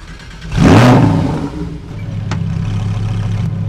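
A Lamborghini Huracan STO starts up with a sharp, loud rising engine bark that settles into a steady rumbling idle.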